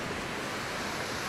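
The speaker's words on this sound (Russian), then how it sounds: "Слышно уже шум моря." Sea waves on the beach at Melekino make a brief, steady, loud rushing wash of surf mixed with wind noise.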